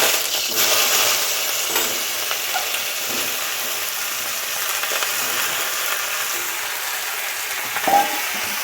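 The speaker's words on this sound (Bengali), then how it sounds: "কুমড়োর ডাটাগুলি দিয়ে আগে ভেজে নেব" Pumpkin stems fry in mustard oil in a wok, giving a steady, close sizzling hiss that holds throughout, with occasional light clacks as the pieces are moved about.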